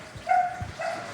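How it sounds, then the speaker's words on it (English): A couple of short dog barks and yips, fairly close, with a brief pause between them. "When they smell food, they get to barking."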